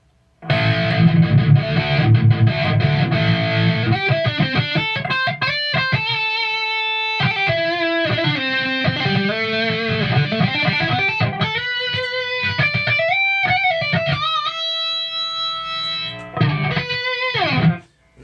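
A distorted Fender Stratocaster electric guitar plays sustained notes and bends that ring out long and dry with no reverb, loud and up close, ending with a brief held chord.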